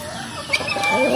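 Broiler chickens on a farm clucking softly nearby, a few short clucks over a low background, with a speaking voice in the clip.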